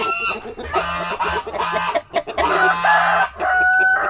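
Brahma chickens cluck steadily at feeding time on a homestead, a dense, close chorus of overlapping hen calls with a rooster's crow rising near the end.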